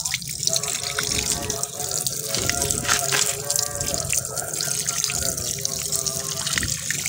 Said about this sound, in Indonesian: cukup disiram atau disemprot seperti ini ya